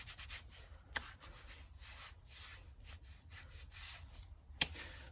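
Steady rubbing and scrubbing as conditioner is worked by hand into leather boots, a close, continuous rough swishing with a couple of sharp knocks, and no talking.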